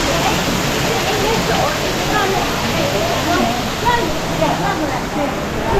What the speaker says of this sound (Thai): น้ำตกอยู่ข้างหลังเรานะครับ